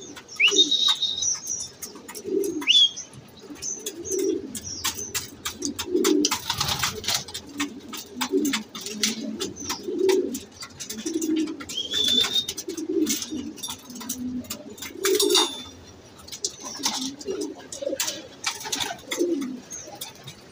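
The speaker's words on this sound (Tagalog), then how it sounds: "Magpasukan yung mga barata birds natin." Racing pigeons at feeding time coo continuously in low, rolling calls, close and loud, with scattered clicks, pecking and occasional wing flaps throughout.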